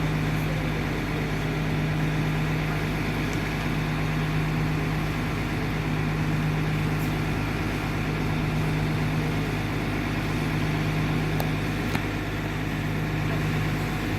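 A fire engine idles at the scene of a California firefighter graduation demonstration, giving a steady, loud low-pitched hum with no change over the whole stretch.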